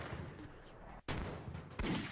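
A sniper rifle shot rings out in Blocky Combat SWAT Edge, a sharp blast followed by a second burst, amid quiet game noise and a speaking voice.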